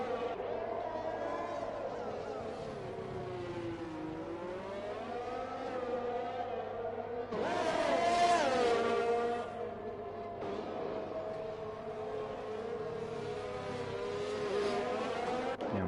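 Race cars in the F1 2021 video game lap the Azerbaijan circuit, with engines whining and shifting pitch as they accelerate and brake, and a louder car surging past mid-way, all under continuous race commentary.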